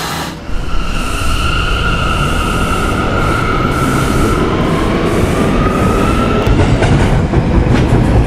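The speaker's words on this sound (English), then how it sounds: "This is a Rentar Plaza bound D train." An R179 subway car on the D train in the Roblox PTA Subway game rumbles along the 5th Avenue Lines, a steady loud roar with rail noise and faint wheel squeal, heard alone throughout.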